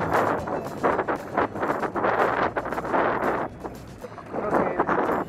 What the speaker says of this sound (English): I can't even hear me because the wind's blowing so hard